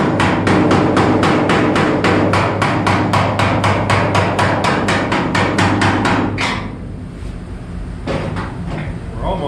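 A flathead screwdriver is driven with a hammer into rusty metal on a Plymouth Duster, making a loud, fast, regular series of close metallic blows that stop after about six seconds, followed by softer handling sounds.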